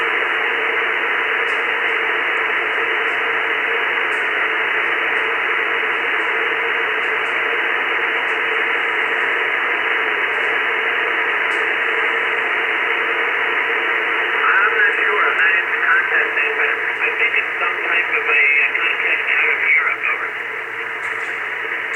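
Steady hiss of white noise from a TenTec Orion II Model 566 radio receiver fills the whole stretch, a dense broadband noise band with faint warbling tones creeping in near the end.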